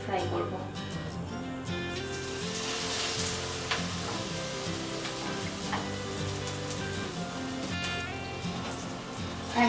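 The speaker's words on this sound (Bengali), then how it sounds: "এবার আমি কাবাবগুলোকে ধীরে ধীরে এর মধ্যে দেব আর ডিপ ফ্রাই করব।" Soya granule kababs deep-fry in hot white oil in a kadai over a low flame, giving a steady, even sizzle that runs throughout with a voice and some music over it.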